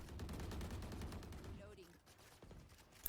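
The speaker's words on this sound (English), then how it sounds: "as he sprays, gets a headshot through the smoke on this Viper" Rifle spray gunfire in the video game Valorant, a dense rapid burst of shots fired through smoke that fades after about a second and a half, with sparse quieter sounds afterward.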